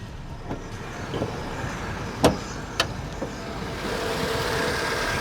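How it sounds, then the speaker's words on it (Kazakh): A Mazda 626 Cronos engine idling under an open bonnet, a steady low hum heard up close with a couple of sharp clicks partway through. "Міне мотор мына 626 Маздада Кроноста әдемі істеп тұр."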